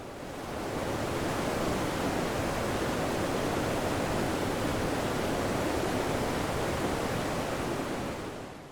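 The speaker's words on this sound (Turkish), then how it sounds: "Karşınızda Doğu Anadolu'nun en güzel şelalelerinden biri Muradiye Şelalesi." Muradiye Waterfall on the Bendimahi River near Van in eastern Turkey pours with a steady, dense roar of rushing water that stays loud and unbroken throughout, with no voices.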